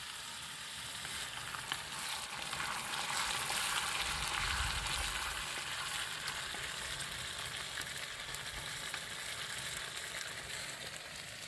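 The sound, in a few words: onions frying in a pan for chicken curry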